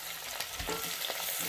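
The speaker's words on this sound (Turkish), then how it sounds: "Güzelce bir karıştıracağım şimdi." Chopped onions fry in olive oil and are stirred in a pan, giving a steady close sizzle with a few soft scraping strokes.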